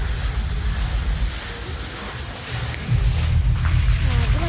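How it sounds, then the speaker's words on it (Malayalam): Waterfall at the Kozhikode aquarium, a constant loud, close rush of falling water that swells slightly toward the end, with someone talking over it. "പിന്നെ ഒരു വെള്ളച്ചാട്ടം കാണിച്ചു തരാവേ. കണ്ടോ ഒരു എന്ത് വെള്ളച്ചാട്ടം."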